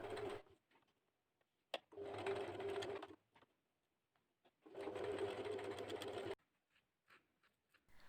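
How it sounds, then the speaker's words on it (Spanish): A sewing machine stitching faux leather scales, running in two long steady bursts of rapid mechanical whirring separated by quiet pauses and small handling clicks, close and clear. "Siendo polipiel, lo más rápido y sencillo es fijarlas con una costura a máquina."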